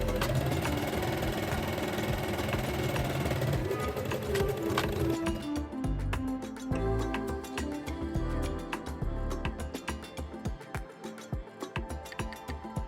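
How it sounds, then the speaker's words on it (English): A sewing machine stitches along the pocket opening of wide-leg pleated shorts, joining the front piece and pocket lining in a fast, close mechanical whir with short bursts and pauses. "Sew them along the pocket opening line."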